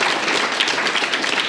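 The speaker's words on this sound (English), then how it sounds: "give all of you a round of applause for coming out tonight" A seminar crowd applauds in a dense, continuous burst of clapping, close and loud, with no pauses across the brief stretch.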